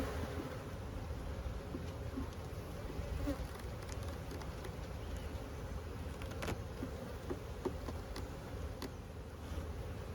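Honey bees swarm around small open beehives as robbing begins outdoors, a dense, steady buzzing drone from many insects close by, with occasional louder passes near the microphone and light wind.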